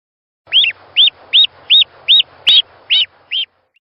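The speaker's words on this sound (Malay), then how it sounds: "Hei Sarah, kenapakah anak-anak itik ini begitu bising" Ducklings squabble as they feed, giving eight evenly spaced, high, sharp peeping calls close by, with a faint low rumble underneath.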